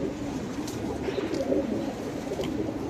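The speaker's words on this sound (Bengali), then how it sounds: "কত সুন্দর সুন্দর কবুতর এখানে দেখতে পাচ্ছেন" Pigeons cooing in a crowded home loft holding dozens of birds, soft rolling coos overlapping close by in a continuous low murmur with a few faint higher chirps.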